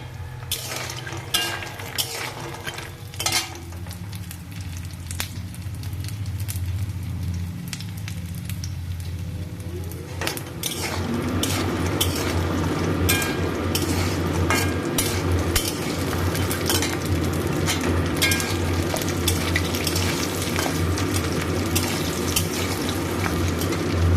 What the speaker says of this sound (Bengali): বড়িটা লাল লাল করে ভাজা হয়ে গেছে